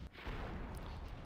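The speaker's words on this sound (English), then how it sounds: "as those cannons are now taking out this mid stuff." Cannon fire from a turret-style cannon defense in a strategy video game, heard as a dense, steady booming roar that stays loud for the whole short moment with no voices.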